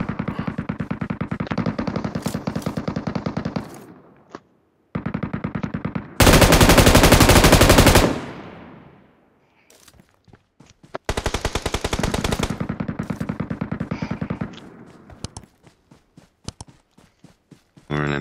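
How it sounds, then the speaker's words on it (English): Rapid automatic gunfire in the mobile battle-royale game Metro Royale comes in long loud bursts with short pauses. One extremely loud, dense blast stands out midway, and scattered single shots and footsteps follow, under occasional voice chat. "there's two teams firing at us."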